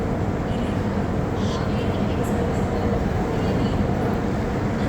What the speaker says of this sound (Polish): Tam już pociąg wjeżdża, nie?